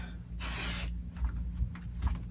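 A short, loud burst from a spray adhesive can hisses for about half a second onto quilt layers, followed by quieter handling noises and faint rustling.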